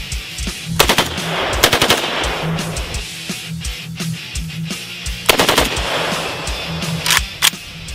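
Short-barrel AK rifle fires several loud bursts of rapid automatic gunfire, close by, with brief pauses between strings and echoing outdoor reports.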